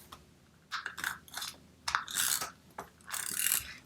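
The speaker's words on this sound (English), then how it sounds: "I'm going to use my AdTech Crafters tape, and I'm going to cover this" Adhesive craft tape is pulled and pressed onto a cereal-box bookmark, giving several bursts of close, crackly peeling and ripping, each lasting a fraction of a second.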